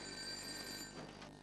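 A telephone rings in a police station office, a steady electronic ringing tone over constant background hum, close and fairly loud for the brief moment.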